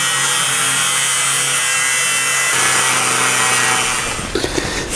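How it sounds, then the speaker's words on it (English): A thin abrasive cutting wheel on an angle grinder slices through sheet metal for a rear cab overlay patch on an old rusty vehicle, a loud, steady high whine that runs continuously and shifts pitch partway before winding down. "those very thin cutting wheels are very handy for this kind of work"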